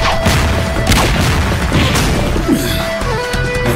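Cartoon sand crashing and smashing into the ground during an animated fight, a loud dense run of booms, impacts and rumbling debris filling the whole stretch, with layered battle effects and no pause.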